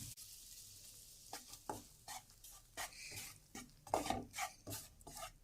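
Gram flour roasts in a little oil in a pan while a spoon stirs it, giving soft scraping strokes and faint sizzling at irregular intervals, close by and fairly quiet.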